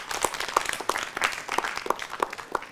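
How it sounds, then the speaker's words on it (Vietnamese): A crowd applauds the two teams after their performance in a school competition show, steady clapping with some sharper individual claps standing out at a brisk, regular pace. "Một tràng pháo tay dành cho phần thi của hai đội vừa rồi."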